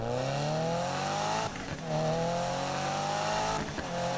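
Boosted Subaru BRZ in Need for Speed winding up through the revs in two rising pulls, each broken by a quick shift, with a loud, close engine note throughout.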